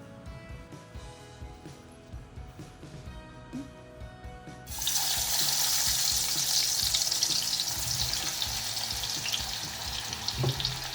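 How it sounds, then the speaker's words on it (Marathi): Jackfruit chips dropped into oil for deep-frying on a low flame, with a quiet background giving way abruptly to a loud, dense, steady frothing sizzle that continues close up, with a couple of faint clinks. "आता हे मंद याच्यावर आपण तळून घेणार आहोत"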